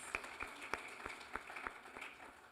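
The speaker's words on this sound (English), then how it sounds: "I think that deserves a round of applause" A few people clap in slow, scattered rhythm at a leadership event in Kigali, the claps distinct but faint and distant, with no talking over them.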